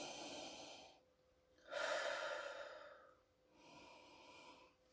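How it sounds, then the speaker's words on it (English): Slow, close breaths inhaling frankincense essential oil from cupped palms held to the face, with a long deep intake in the middle and softer breaths before and after, no talking. "And just breathing it in."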